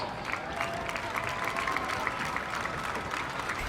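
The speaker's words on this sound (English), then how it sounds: "Please, let's give him a round of applause." An audience applauds a high school student being honored as academic student of the week, a steady wash of many hands clapping at moderate volume throughout, with no speech over it.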